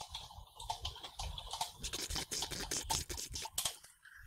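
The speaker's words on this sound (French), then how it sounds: "Ah, on entend mon clavier" Rapid clicking of a computer keyboard during a Diablo 3 co-op session, with irregular bursts of close, crisp keystrokes that run on for several seconds.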